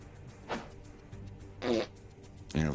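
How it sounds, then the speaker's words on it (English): A cartoon hyena lets out a fart sound effect in an animation: three short, separate blurts spread across the stretch, the last the loudest and most tonal, fairly quiet overall against a low background hum. "there comes the farting hyena right in the face"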